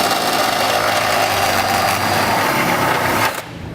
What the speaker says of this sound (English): I'm going to use this step drill bit